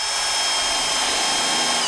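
A power drill drives screws into timber window frames for a barn, a steady high whine with broadband grinding that holds close and loud for about two seconds, with no voices.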